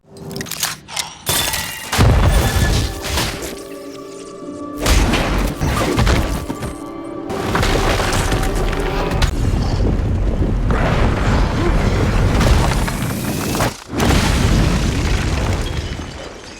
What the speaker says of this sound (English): She uses her monkey bomb toy, that's important, to create a controlled kind of explosion to help them escape.